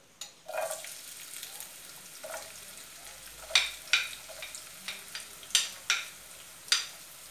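Onion sizzles quietly in a pan with oil, punctuated by several sharp pops and crackles at irregular intervals.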